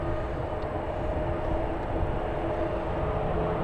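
A Boeing 787 Dreamliner approaching San Francisco produces a continuous broad jet roar, steady and fairly loud, with no voices over it.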